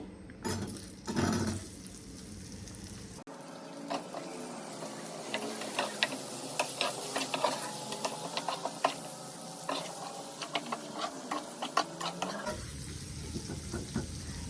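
Onions frying in a pan for egg curry make a crackling sizzle. Quick scraping stirs repeat through the middle stretch, with quieter kitchen noise before and after.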